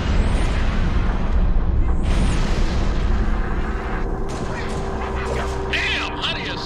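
Artillery barrage in the Halo Reach video game, heavy booming fire and rumbling blasts filling the scene loudly and continuously, with radio-style voices talking over it.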